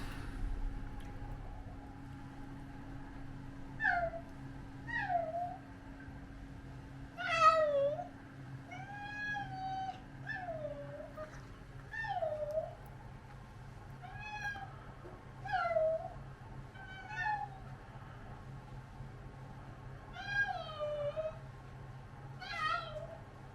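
Shy house cats meowing after a move to a new home in Wales: a run of about a dozen distinct, fairly close meows spaced a second or two apart, alone over a faint steady indoor hum.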